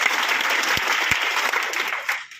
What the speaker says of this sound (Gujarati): એમને માટે તાળીઓ પ્રસ્તાવ